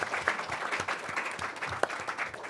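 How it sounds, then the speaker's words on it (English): An audience at a policy panel event applauds for the panel, a dense, steady patter of clapping hands that fills the room from start to finish without voices. "If you could have a round of applause for our entire panel."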